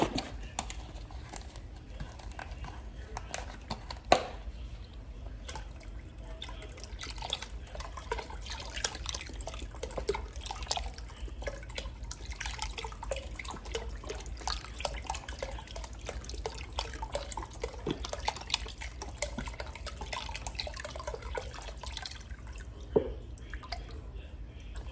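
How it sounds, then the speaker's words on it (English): Beef broth pours into a pot of red beans cooking outdoors on a propane burner, a steady low liquid trickle with scattered drips and splashes, moderately quiet and continuous throughout. "Now I'm gonna add my beef broth."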